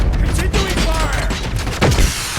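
Automatic gunfire rattles through a Detroit police-themed video game firefight, dense and continuous bursts over a low rumble, with a voice speaking over the shooting.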